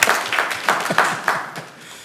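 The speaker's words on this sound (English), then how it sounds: "Are we going to clap?" A few council members at a city council meeting clapping briefly after a unanimous vote, sparse, uneven claps in a room, fading toward the end with faint voices.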